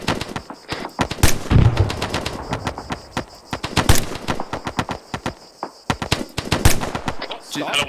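Machine-gun fire in the video game ArmA 3 rattles out in rapid bursts, sharp loud cracks in uneven strings with short gaps, close and dominant over faint background ambience.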